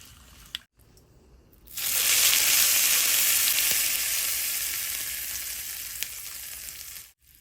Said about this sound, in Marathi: थोडासा हिंग घालूया हिंग घालायचं